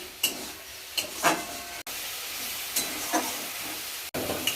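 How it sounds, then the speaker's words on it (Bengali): Tomatoes sauté in oil with mustard paste, a soft steady hiss and sizzle broken by a few scraping stirs of the spatula, with no voices. "দেখো সর্ষে দিয়ে টমেটোটাকে ভালো করে কষিয়ে নিচ্ছি"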